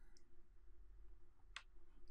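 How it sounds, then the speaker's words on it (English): A single sharp computer mouse click, quiet and brief, over a low steady hum with faint room noise. "right mouse click"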